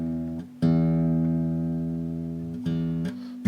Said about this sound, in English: Now we'll tune it up and see how it sounds.